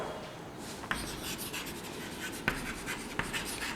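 Pen strokes scratch across paper during a maths lesson on cofactors and determinants, a soft continuous scribbling with a few sharper taps, close and faint with no talk.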